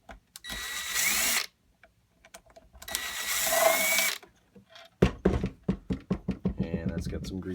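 A power screwdriver whirs in two short bursts as screws are removed from a Keurig K10 coffee maker, followed by rapid clicking and rattling of parts, close and fairly loud.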